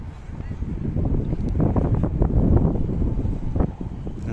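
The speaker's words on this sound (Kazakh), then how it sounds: "Погодаға байланысты сәл жел жаңбыр Шымкентте." Steady, rumbling wind buffets the microphone throughout in rainy weather in Shymkent, a low roaring gust that swells in the middle and never lets up.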